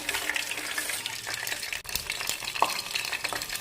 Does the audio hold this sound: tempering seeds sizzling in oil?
yes